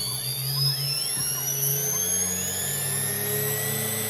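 A Goosky S2 MAX RC helicopter's rotor spins at speed, giving a loud, close, steady high-pitched whine that rises slightly and wavers as the head speed shifts, with no voices.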